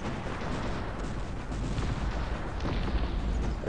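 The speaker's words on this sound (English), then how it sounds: "A great back and forth, Metafrost wasting an entire barrage of cannons, whilst Bacon is shooting the palisade wall." Cannon barrage from massed artillery in the real-time strategy game Cossacks 3, a dense, continuous rumble of overlapping booms and crackling shots with no pause, loud and busy throughout.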